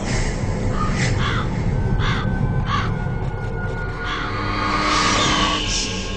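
Several crows caw in short harsh bursts in Metal Gear Solid, scattered through a dense, steady rumble of background noise.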